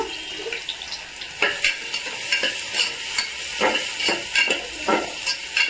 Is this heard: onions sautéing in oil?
yes